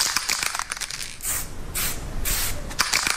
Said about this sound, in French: Une bombe de peinture entre les mains, Lucien Gilson, alias Noir Artiste